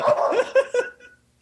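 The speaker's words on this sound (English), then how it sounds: "you hearing my dogs barking?" Several quick dog barks in a short burst, close and moderately loud, fading into quiet at the end.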